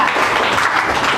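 Loud audience clapping at a Telugu Christian sermon, a dense continuous wash of many hands held steady and close throughout.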